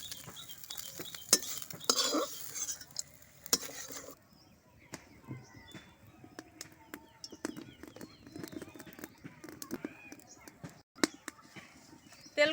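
Small fried fish are scooped from a pan into a bowl, making scattered metallic utensil clinks and scrapes of spoon against cookware at close range, with no talking.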